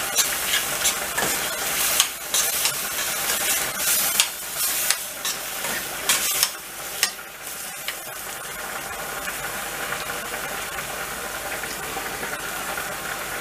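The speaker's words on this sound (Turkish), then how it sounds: "Ve şöyle bir karıştırıyoruz. Malzemeleri birbirine yediriyoruz." Minced garlic being stirred into minced meat frying for a pasta sauce in a pan, with repeated scraping strokes of the spoon over a constant sizzle that settles into steady frying toward the end.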